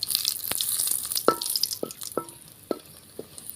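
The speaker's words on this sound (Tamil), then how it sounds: "அந்த வரமிளகாய் வந்து எண்ணெயிலே நம்ம வந்து வதக்கி எடுத்துக்கலாம்" Dried red chillies frying in oil for a traditional pungam flower thuvaiyal, a bright steady sizzle broken by several sharp pops and crackles spread through the clip, close and moderately loud.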